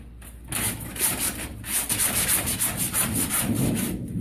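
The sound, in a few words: floor scraper scraping a floor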